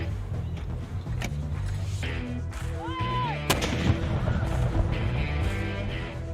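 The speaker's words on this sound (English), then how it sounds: "Over the years, the cadets have had a lot of fun with this cannon." Virginia Tech's Skipper cannon, fired by cadets, goes off with a loud sharp boom that rings out over a noisy outdoor crowd, with voices calling in the background.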